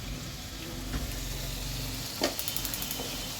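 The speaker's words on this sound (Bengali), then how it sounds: "আদা রসুন হলুদ মরিচ পরিমাণ মতো জিরা ধনিয়ার গুঁড়া সব কিছু দিয়ে মশলাটা কষাতে দিয়েছি" A spice paste of ginger, garlic, turmeric, chili, cumin and coriander powder fries in oil with a steady, close sizzle, and a few stirring scrapes come near the end.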